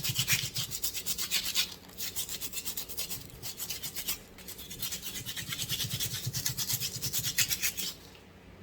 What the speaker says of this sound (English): We're gonna start sanding this bad boy.